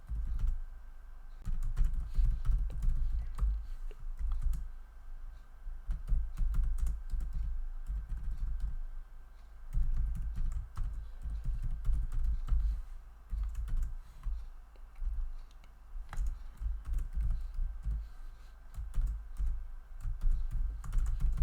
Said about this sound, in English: I'll just type it out right now